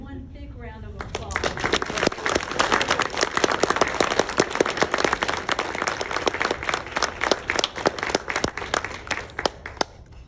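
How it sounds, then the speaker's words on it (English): A graduation pinning ceremony audience for a medical assisting class breaks into applause, loud individual claps rising from a murmur into a dense, steady round that tapers slightly near the end. "Let's give them one big round of applause."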